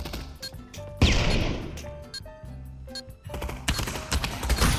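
Gunfire in Counter-Strike 2 played in VR, a sharp loud burst followed by repeated shots and rattling bursts amid game sounds and tonal beeps, with no talk.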